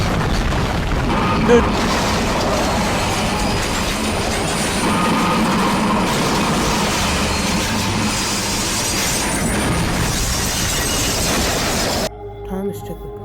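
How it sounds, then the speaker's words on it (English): A train derails in a dramatic audio-story effect, with rumbling wagons, clattering wheels and heavy crashing continuing for several seconds before stopping suddenly, followed by a brief quieter moment. "Thomas took the points too fast and yelled as his whole train and himself came off"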